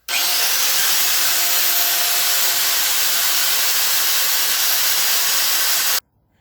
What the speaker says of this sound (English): I just swapped my grinding wheel for my wire brush wheel here on my end.